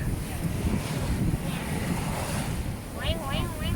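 Sea waves surge and wash onto Jomtien beach in Pattaya, a steady roar of surf mixed with wind buffeting the microphone and brief voices near the end.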